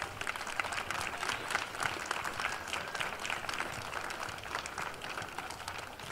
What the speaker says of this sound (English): Please give a round of applause to the many supporters that help make these events a success.